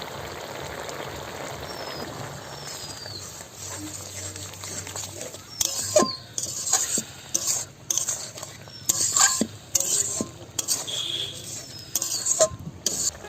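Mustard and onion paste added to a drying curry in a pan, with spoon scrapes, clinks and stirring bursts growing busier in the second half over a quiet background.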